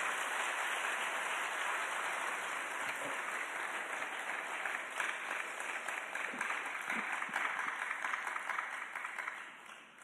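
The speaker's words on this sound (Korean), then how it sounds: "함께 박수하겠습니다." Church congregation at a Wednesday evening service applauding to welcome a guest pastor, a steady wash of many hands clapping for about ten seconds before easing off at the end.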